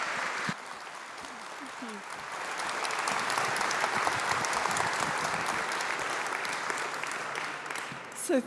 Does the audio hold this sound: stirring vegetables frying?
no